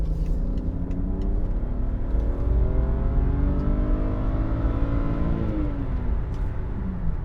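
A BMW 528i E60 with its inline six-cylinder accelerates hard through a corner, heard from inside the car as a loud, smooth engine note rising steadily in pitch over road rumble, easing off near the end.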